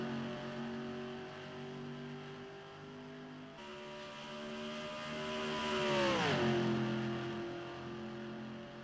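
FARCA race cars restart on the green flag at Kansas Speedway: a loud, droning chorus of engines rises in pitch, then swoops downward as the pack roars past and fades slightly.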